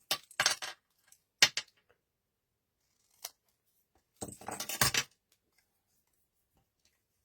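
Scissors trimming a paper piece for an explosion box card, heard as a few crisp snips, quiet and close, with pauses between cuts and a longer burst of cutting partway through.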